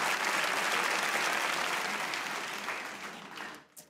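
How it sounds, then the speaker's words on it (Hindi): Dense, sustained studio audience applause for cricketer Shahid Afridi on a talk show, steady and loud before tapering off at the end. "एक बार तालियां हो शाहिद आफरीदी के लिए।"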